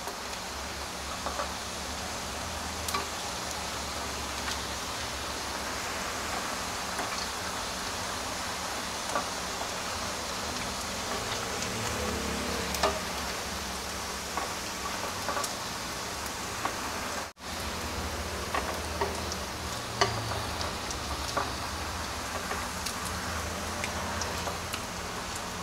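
Pieces of vegetarian giò being lightly fried in a pan in a home kitchen give a steady, soft, hissing sizzle that continues evenly throughout with no talking.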